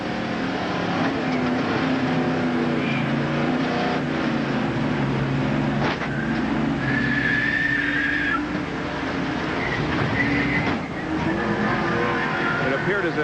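A 1987 NASCAR stock car at the Winston 500 heard from an in-car camera, with a loud continuous engine roar and rattling impacts as the car is hit from behind, under commentators talking.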